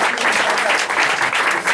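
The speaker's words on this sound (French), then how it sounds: "Allez, on applaudit bien, on applaudit bien." A live audience claps at a stage show, a short burst of loud, dense, steady applause from a crowd.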